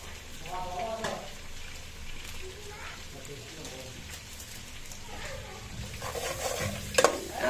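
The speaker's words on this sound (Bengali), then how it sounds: "এবার নাড়াচাড়া করে নেব ভালো মতো" Vegetables fried with salt and fried rice spices sizzle in a pan while a utensil stirs and scrapes through them, the stirring loud and close with a voice at times.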